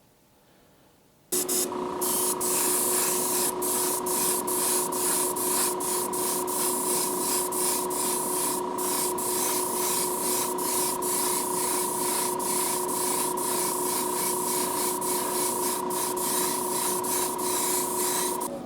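A spray gun lays gloss black paint onto a 1950 Mercury, a loud continuous hiss that starts abruptly after a short quiet moment and holds steady with faint rhythmic flutter, close to the microphone, with no talking.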